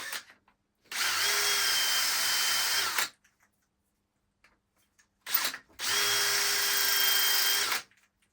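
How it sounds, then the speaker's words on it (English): A drill spins a small cutting bit that cleans out brass tubing and faces an acrylic pen blank. Two steady high whirring bursts of about two seconds each are close and loud, separated by silence. "these little bits here, so that goes down the brass tubing, cleans it out, and that puts a nice flat face on it"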